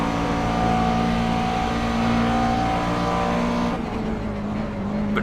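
A Grand Am race car roars past at Road Atlanta in iRacing, its engine a loud, sustained drone with steady harmonic whine that shifts pitch and thins out toward the end.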